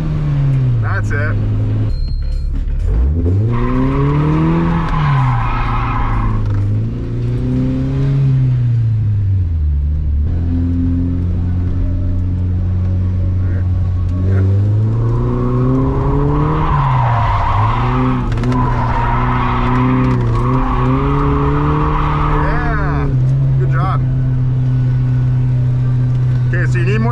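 A Volvo car drifts with its engine revving and rising and falling in pitch, while its tires skid and squeal in long sweeping bursts, loud and close, and people talk over the driving.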